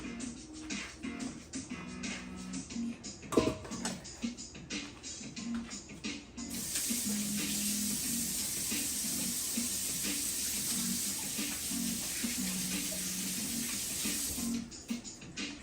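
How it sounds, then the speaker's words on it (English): Tap water runs steadily into a kitchen sink during hand washing, first broken by splashes and clatter, then a continuous, even stream for most of the stretch before it stops near the end. "wash the hands"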